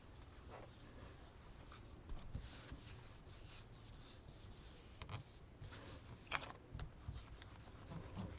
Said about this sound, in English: Try to rub this one a little bit extra because it's got a lot of little tiny line spaces in there.